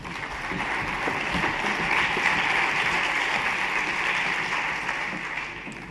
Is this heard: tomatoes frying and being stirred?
no